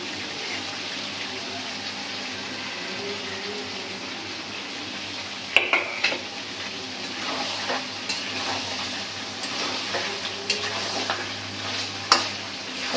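Beef curry with green chillies sizzles in a pot in a village kitchen, with steady frying under repeated scraping stirs that grow busier in the second half.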